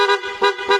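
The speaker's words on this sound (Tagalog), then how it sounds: "Horn." A vehicle horn sounds three short, bright honks in quick succession, loud and close.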